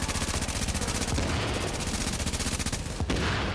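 A light machine gun fires in The Division, a fast steady stream of rapid shots that runs the whole time, loud and close, with a brief break near the end and no voices over it.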